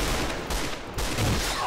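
SA58 Para rifle fire in the online shooter AVA, heard as quick loud shots in short succession over a brief burst of game noise.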